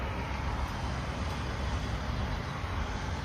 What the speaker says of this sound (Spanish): Hay una calle, bueno, que justo pasan los autos,